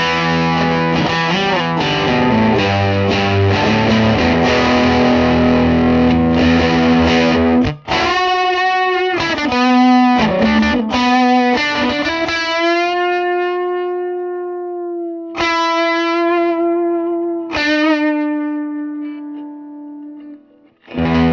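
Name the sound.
electric guitar through cranked tube amplifier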